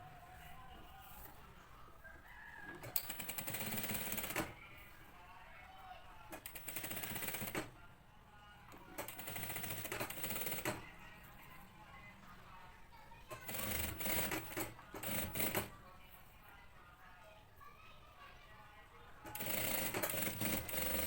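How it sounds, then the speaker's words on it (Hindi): A sewing machine stitches along a neckline with matching thread, its running bursts starting and stopping repeatedly at close range, with quieter pauses between runs. "अब मैं इसके ऊपर सेम मैचिंग के धागे से सिलाई लगाऊंगी"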